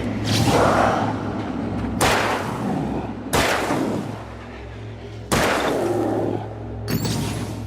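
Heavy gunshots in the horror video game Alan Wake, four or five booming blasts spaced a second or two apart, each with a long echoing tail over a low droning backdrop, and a voice faintly between them.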